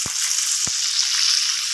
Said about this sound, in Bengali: মাছগুলো আমি দিয়ে দিয়েছি ভাজার জন্য, মাছগুলো ভাজা হচ্ছে।